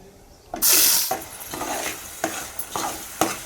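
Ground masala paste with bay leaves fries in a spoonful of oil for mutton rassa, opening with a loud sizzling burst as it hits the pan, then a spatula scraping and stirring in repeated close strokes under continuous frying.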